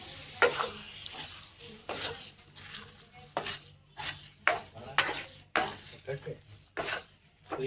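Eggplant oro paste with garlic, onion and chillies is stirred in a hot pan: a steady sizzle with repeated close scrapes and clinks of a spoon against the pot in an uneven rhythm.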